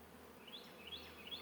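Honeybees buzz steadily around a hive showing swarm signs, with bees bearding at the entrance, a faint, even hum with slight rising whines.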